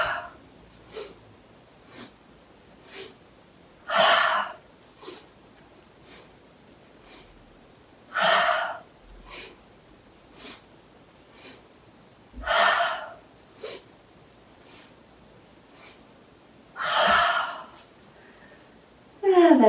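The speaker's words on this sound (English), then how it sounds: "So that is called the breath of joy." Breath of joy yoga exercise: four big breathy exhales spaced evenly, each a loud whooshing rush of air about four seconds apart, with quieter inhale sounds between them and no talking.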